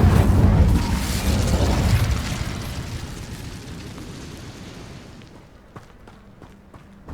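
Incendio fire spell in the Hogwarts Legacy video game: a loud, dense burst of roaring, crackling flame that slowly decays over several seconds, ending in a few soft clicks and a sudden swell at the very end.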